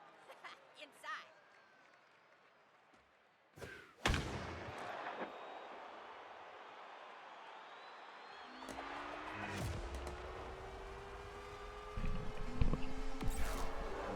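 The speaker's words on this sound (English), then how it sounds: "Some moron across the street thought 9:30, that's a great time to light a firework." A firework set off across the street during a softball league night at about 9:30 pm, heard as sharp booming cracks around the four-second mark followed by a long crackling, whistling rumble with a few more bursts later, distant and echoing.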